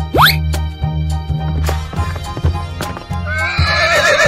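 A cartoon horse gives a loud, close whinny with a rising squeal at the start. Hoof clip-clops and bouncy music from a children's animal animation follow, and a second trilling neigh comes near the end.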